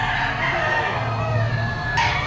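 A Kelso bull stag gamecock crows loudly and close in a pen, one long drawn-out call with a sharp clucking note near the end, under faint background noise.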